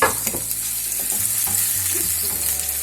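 Chopped medium-sized onions hit 3–4 tablespoons of hot oil with a loud, steady sizzle and hiss, while a spoon stirs through with scraping knocks close by; nobody talks.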